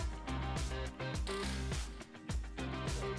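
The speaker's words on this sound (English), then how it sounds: "The bolts that were revealed by removing the front panel can be removed." A ratchet wrench loosens headlight mounting bolts on a 2018-2019 Ford F-150, giving a quick, close run of rhythmic clicking that continues steadily without talk.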